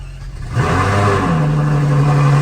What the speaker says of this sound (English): weirdly, the engine will start.